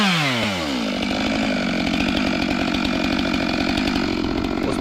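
A professional woodcutter's chainsaw clears around the base of a tree before felling. The engine revs up sharply, then holds a loud, continuous buzzing snarl close by.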